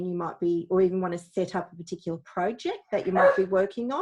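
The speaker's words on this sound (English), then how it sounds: "please excuse my dog in the background" A dog barks in the background at home, its short yips nearly buried under someone speaking steadily close to the microphone during an online webinar.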